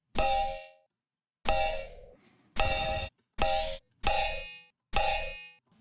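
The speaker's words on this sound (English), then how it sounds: "Let's maybe try one more thing with this glass bottle here." Glass bottle hits processed through a Flex Chorus plugin: six separate bright, clanging strikes, each ringing briefly with a shimmering chorused tone and then cut off, played alone.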